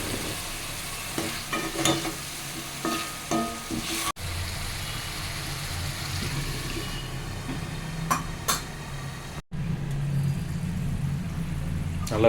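Dried nei meen fish thokku bubbles and sizzles hard in a pan, a steady close crackling hiss with a low rumble underneath that runs for about twelve seconds, broken by two very brief gaps.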